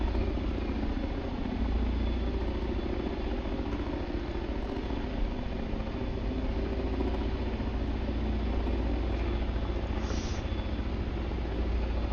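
A Chinook helicopter hovers overhead for cargo hookup with a continuous heavy rotor and engine roar, loud and unbroken throughout.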